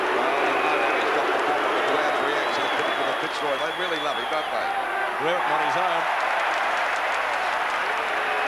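A large stadium crowd at a 1986 Australian football preliminary final between Hawthorn and Fitzroy roars and applauds steadily throughout, a broad, loud wash under a commentator talking.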